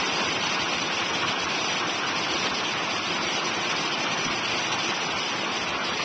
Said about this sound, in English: More pounding rain.